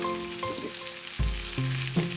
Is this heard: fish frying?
yes